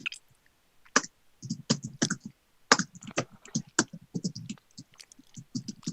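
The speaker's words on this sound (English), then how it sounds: "That's just me typing." Someone types on a computer keyboard, producing irregular bursts of close, crisp key clicks with short pauses between them, and no voices.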